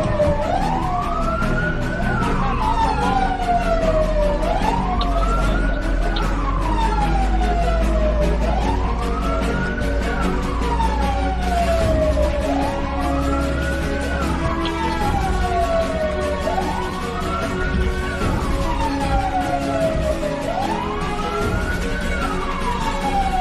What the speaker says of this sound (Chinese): 在消防车的报警声中呢，上百辆私家车呢纷纷靠向了隧道两侧